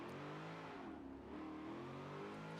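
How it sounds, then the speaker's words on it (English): A car engine with a damaged gearbox in a racing video game revs and drones steadily with a slight pitch dip in the middle, a continuous mid-pitched engine note with no talking. "Just sounds like the gearbox is in shambles."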